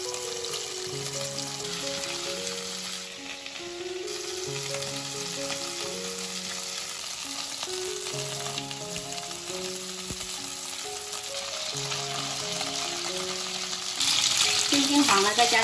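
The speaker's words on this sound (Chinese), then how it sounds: "平底锅加入适量油，把鸡翅煎到两面金黄。" Chicken wings, scored and fried in oil in a flat pan until golden, give a steady broadband sizzle throughout, partly under tuneful background music that gets louder near the end.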